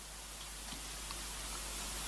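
Rain falls steadily during an outdoor wreath-laying ceremony in St. Lucia, a soft, even hiss with faint scattered drops, continuous and fairly quiet, with no talk.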